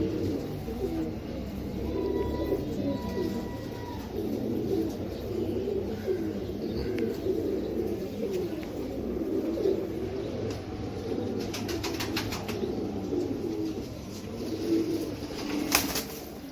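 A breeder pair of Royal Teddy pigeons coo in a loft, low throaty coos repeating continuously and fairly close, with a few sharp chirps or wing sounds near the end.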